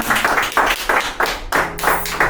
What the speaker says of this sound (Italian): Questo è un applauso che ovviamente conferma questo